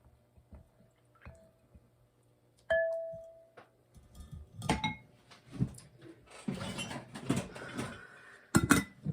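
Herbal hair wash ingredients being mixed in a container, with scattered clinks and taps, a short ringing chime, then rustling and stirring noises that get busier toward the end, close and fairly quiet.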